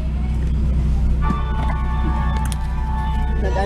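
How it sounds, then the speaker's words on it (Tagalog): Road traffic in a queue at a McDonald's drive-thru: a steady low engine rumble from inside a car, with faint tones and a few brief bumps and squeaks. "Kahit dito sa McDo na traffic."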